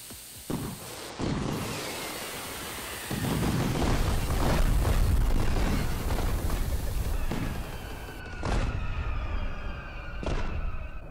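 A car packed with fireworks explodes in the game Fireworks Mania, loud booms and crackling bursts rolling for several seconds, followed by sharp popping and whistling rockets going off one after another.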